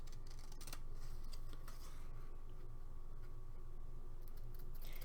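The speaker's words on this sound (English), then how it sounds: "let's trim this off." Paper card pieces being trimmed with scissors at a craft table, a run of soft snipping and ticking cuts over a steady low background hum.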